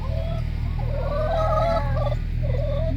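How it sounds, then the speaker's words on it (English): Poultry calling in a rapid warbling run over a steady low hum, a short burst followed by a fainter call. "How can anyone not like a chicken? You just gotta love chickens."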